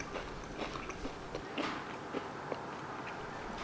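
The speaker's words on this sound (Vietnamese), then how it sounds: "Và bây giờ Diễm nhai thử cho mình nghe nha. Giòn rụm luôn" Crisp biting and chewing of fried rice crust (cơm cháy) broken by hand, a series of close, faint crunches at an irregular rhythm.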